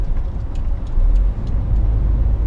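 A truck rolling along a UK road, heard from inside the cab as a deep, steady engine and road rumble with faint clicks and rattles on top.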